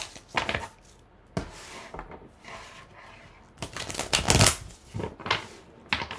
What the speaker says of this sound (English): Let's give this a little bit of a shuffle here.